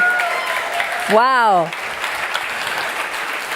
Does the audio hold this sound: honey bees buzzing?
no